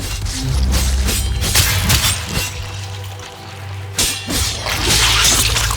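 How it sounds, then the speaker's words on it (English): Weapon fire hits a hive in Warframe's Heart of Deimos, producing a dense, loud wash of noisy blasts with heavier thumping impacts standing out at a couple of points. "Hive located. Destroy it with weapon fire."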